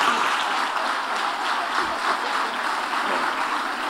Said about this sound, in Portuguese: Vamos recebê-lo, aplaudindo o Senhor Jesus